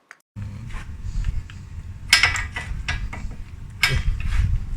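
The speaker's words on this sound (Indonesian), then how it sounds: "Sekarang kita buka mur tie rodnya pakai shock 18 mili ya." An 18 mm socket on a ratchet works a tie rod nut on a Chevrolet Spin, giving close metallic clicks and clunks over a steady low hum, with two louder bursts of metal noise partway through.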